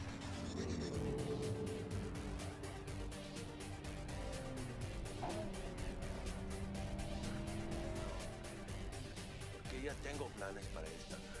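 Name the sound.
car driving through the city in video game Cyberpunk 2077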